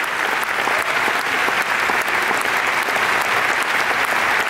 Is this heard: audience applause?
yes